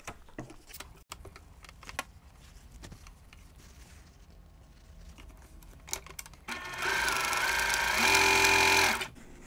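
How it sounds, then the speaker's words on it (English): A sewing machine stitches a quilted stocking block, starting after scattered quiet clicks and handling sounds with a loud, steady whirring run of a few seconds that then stops abruptly. "Now we're ready to start sewing the body of the stocking."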